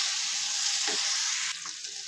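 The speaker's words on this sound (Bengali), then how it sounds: "কচুগুলো দিয়ে আমি হালকা কষে নিচ্ছি।" Pieces of taro sizzling in a pan with Malabar spinach and chicken, a close steady frying hiss with a couple of soft stirring knocks.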